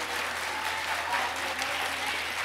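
An audience gives a sustained round of applause for the speakers at the close of a youth ambassadors program event, steady dense clapping for a couple of seconds.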